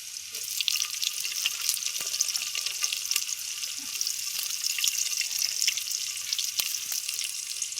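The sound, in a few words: tomatoes frying with onions in oil in a pan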